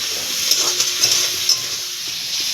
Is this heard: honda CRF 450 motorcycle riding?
no